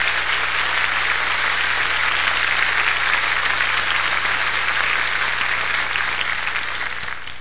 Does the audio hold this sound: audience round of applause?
yes